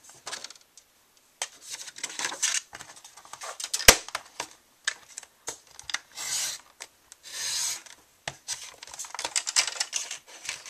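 Paper being cut to size for a butterfly garden mini album, heard as close rasping, scraping strokes in irregular bursts with brief pauses and one sharp snap, with no talking.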